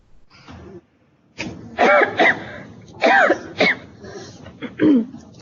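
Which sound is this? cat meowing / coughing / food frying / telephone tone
coughing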